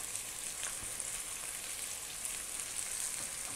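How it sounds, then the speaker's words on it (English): Chopped garlic and ginger stir fried in a hot pan for chicken chow mein, a steady close sizzle with soft scraping stirs, no voices. "And we're going to stir fry this for about 3 minutes."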